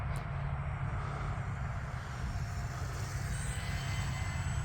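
A small E-flite UMX Air Tractor RC plane flies at about half throttle. Its electric motor and propeller give a steady, continuous whirring drone that stays at an even level throughout, with no talking.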